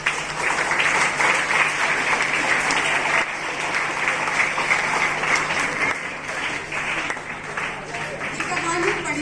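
Audience applause fills a performance of the stage play Pehlwaan ki Dholak, adapted from a Phanishwar Nath Renu story: steady, dense clapping from a crowd that carries on throughout at a fairly even, loud level.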